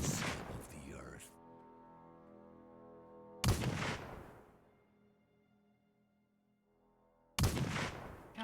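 Gunshots in the video game Blood West come as three separate loud blasts spaced several seconds apart, each followed by a long ringing decay.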